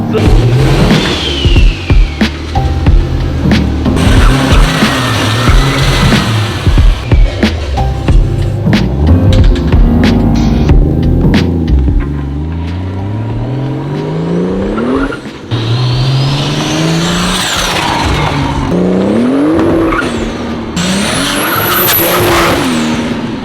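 A 2JZ-engined car spins dry-rotted tires, its loud revving engine rising and falling with screeching tire squeal across a long continuous stretch, close and intense, with brief voices under the noise.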